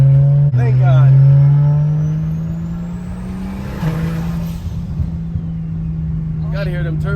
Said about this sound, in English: Gotta hear them turbo noises